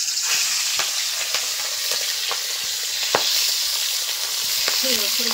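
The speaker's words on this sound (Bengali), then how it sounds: "তো তেলটা গরম হয়ে গেছে, এবার মাছগুলো আমি ভেজে নেব।" Prawns fry in hot mustard oil in a kadai, a close, steady sizzle broken by sharp spatters and crackles, with a few clinks from stirring near the end.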